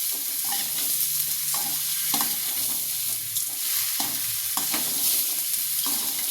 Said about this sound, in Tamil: வெங்காயமும் பீட்ரூட்டும் ஒன்றா போட்டு கலரிக்கலாம்